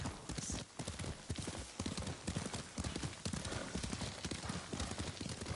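Horse hooves clip-clopping at a steady riding gait in the samurai video game Ghost of Tsushima, continuous and fairly close throughout.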